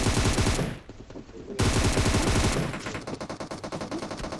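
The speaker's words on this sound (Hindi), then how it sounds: "इन भैया जी ने हम पे बहुत गंदा फायर दिया" Rapid automatic gunfire rattles without letup during a PUBG match, loud and close, dipping briefly before the bursts resume and continue at a steady chattering pace.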